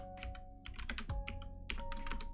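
Close, brisk typing on a computer keyboard, a quick irregular patter of clicking keystrokes with a soft tonal hum underneath and no talking.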